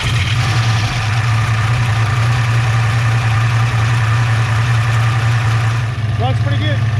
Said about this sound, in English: Finally got the turbo hooked up, ready to give it a first fire